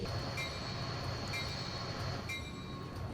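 Rolling rumble of a Metra commuter train in Train Simulator 2020, a steady low drone with faint metallic tones above, continuous and fairly close.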